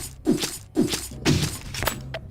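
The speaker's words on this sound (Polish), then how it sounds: "to tym się niszczy tą skrzynkę, znaczy beczkę" Several sharp cracking smashes in quick succession in the video game UnEpic, a wooden barrel breaking apart, each ending with a short splintering rattle.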